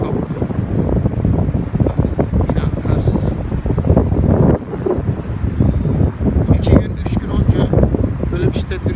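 Heavy storm wind in Germany roars and thumps against the microphone throughout, with a person's speech partly buried beneath the gusts.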